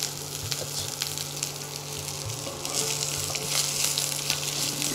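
Vegetables and shredded cabbage frying in a pan for a Bengali labra dish, a continuous close crackling sizzle with occasional stirring scrapes and pops, steady and unbroken throughout, no talk.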